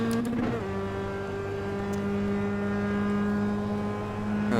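A Mazda MX-5 race car in iRacing at Lime Rock Park holds a steady, droning engine note at sustained speed, with brief louder bursts at the start and end; no talking.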